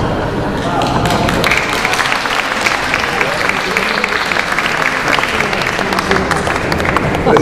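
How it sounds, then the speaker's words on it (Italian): Steady applause from a seated audience at a tribute event for Corradino D'Ascanio fills the room, dense and even throughout with a faint voice mixed underneath. "Presidente, è stato l'applauso."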